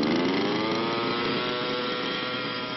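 A small go-kart engine runs on butanol fuel made from algae, a continuous buzzing drone at steady, fairly loud volume, heard alone with no voices.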